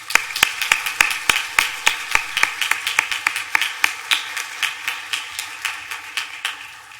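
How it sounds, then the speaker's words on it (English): A small, sparse group claps at a law school awards and Order of the Coif ceremony, with distinct separate hand claps in a loose rhythm that gradually thin out and fade. "join me in giving a round of applause to everyone"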